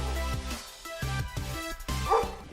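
A dog barks repeatedly outdoors in snowy Vermont, a run of deep, close, loud woofs in an uneven rhythm with a short whimpering yip near the end.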